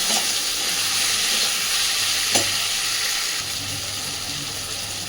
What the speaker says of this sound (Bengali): আলুগুলোকে দিয়ে ভাজতে থাকবো একসাথে করে।